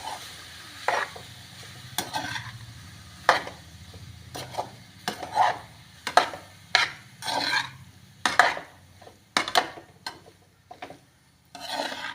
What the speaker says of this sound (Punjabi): ਸਾਰੇ ਤਾਲੇ ਦੇ ਵਿੱਚ ਚੌਲਾਂ ਨੂੰ ਚੰਗੀ ਤਰ੍ਹਾਂ ਮਿਕਸ ਕਰ ਦਾਂਗੇ